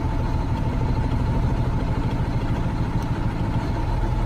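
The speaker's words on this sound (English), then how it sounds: "if I cut out number one, you're gonna hear the difference." A Cummins ISM diesel truck engine idles with cylinder one cut out during an injector test, giving a steady, close, rough low clatter and rumble with no talk.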